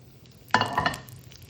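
A sudden loud sizzle as almonds and cashews hit hot ghee in a pan, flaring sharply then settling into a softer crackling fry, with light stirring clatter and no talking.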